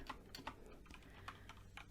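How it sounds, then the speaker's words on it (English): Keystrokes clatter on a brand-new computer keyboard in a quiet room, quick uneven taps with brief pauses, faint and close, with no voices. "we're going to have to excuse my typing. I just got a new keyboard and I'm still getting used to it"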